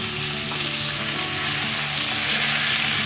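Vegetables frying in hot oil in a pan, a steady loud sizzle with constant crackle and no talking, heard close up while cooking a Bengali dudh shukto.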